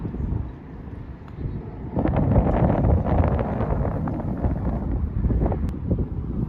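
Strong wind gusting across the Coyote Creek Valley golf course at a 158-yard par 3, buffeting the microphone in loud, rumbling waves that swell after the first couple of seconds and stay rough throughout.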